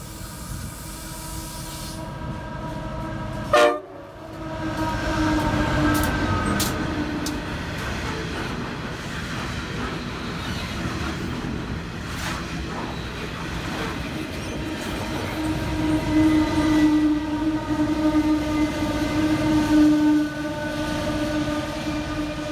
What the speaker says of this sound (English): another Horizons coal train is seen passing through with fully loaded coal